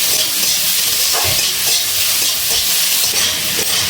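Chicken frying in a pan over a high gas flame gives a loud, close, continuous hissing sizzle, with faint scraping from stirring underneath.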